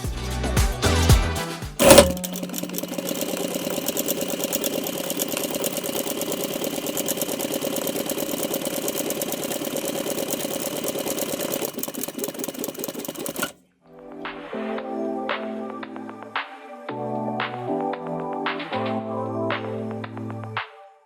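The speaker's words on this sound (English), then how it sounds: "I first gathered the narrow strip and sewed it onto one edge of the wider strip" A sewing machine stitches a gathered fabric strip onto the edge of a wider strip to form a ruffle for a custom doll's dress, a steady close whir lasting about eleven seconds before music takes over.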